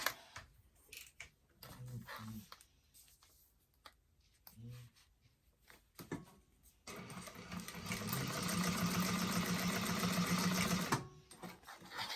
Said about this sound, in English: we're going to stitch along this bottom with an 1/8 of an inch seam allowance